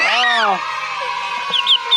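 A duckling peeps close by, a drawn-out call followed by a few short high chirps.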